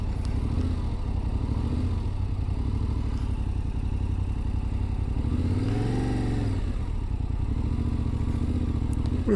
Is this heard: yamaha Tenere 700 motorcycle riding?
yes